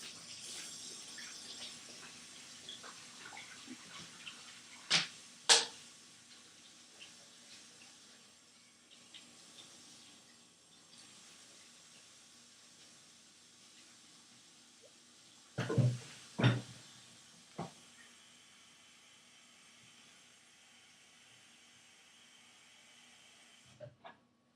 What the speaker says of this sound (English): while I get the rest of the hot water going